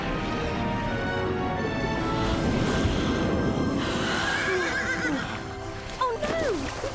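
A horse neighs loudly in a dramatized scene, its whinny rising and falling near the end, with hoof clatter and a low busy background underneath.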